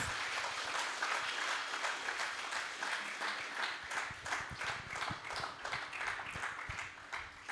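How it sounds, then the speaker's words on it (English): Audience round of applause at a celebration of a business group's 75th year in Mysore, with dense steady clapping from a crowd that holds evenly throughout, fairly close and without speech over it. "can we have one round of applause for the 75th year of"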